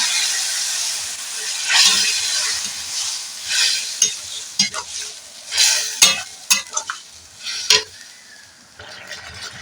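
Boiled banana flower goes into frying spices in a pan and gets stirred, giving a close sizzle broken by repeated scraping and clattering spatula strokes in irregular bursts.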